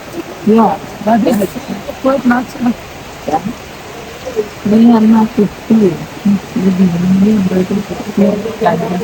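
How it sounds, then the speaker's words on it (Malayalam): Steady rain hisses in the background while a person talks loudly over it, during Vishu. "മുട്ടമഴ നല്ല മഴ വരുന്നുണ്ട്"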